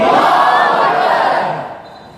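Large crowd at a religious gathering in Hyderabad roaring a loud, sustained chant in unison in answer to a Takbir call, the massed voices swelling and then fading away toward the end.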